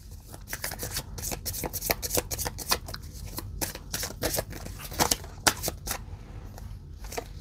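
Tarot cards are shuffled and drawn in a run of quick, crisp riffling and flicking bursts, close and fairly loud, repeating irregularly for several seconds without talk.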